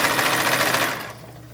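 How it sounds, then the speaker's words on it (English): A domestic sewing machine stitches corset halves together in a fast, even burst of needle strokes that is close and clear, then stops and leaves faint room noise. "now I'm sewing both of those together on the front or on both backs"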